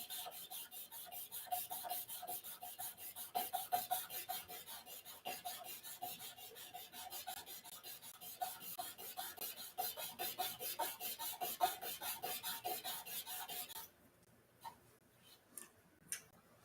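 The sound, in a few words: sanding a wooden briar pipe with old sandpaper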